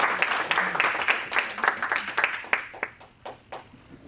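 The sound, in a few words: audience applause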